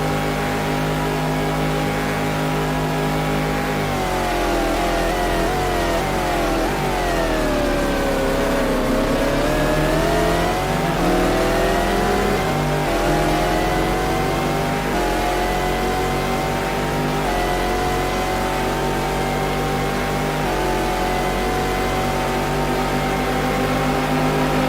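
A Le Mans race car engine in a racing video game, set at the 2000 24 Hours of Le Mans qualifying, drones loudly and continuously, its pitch sweeping down and back up through gear changes and revs, with no talk.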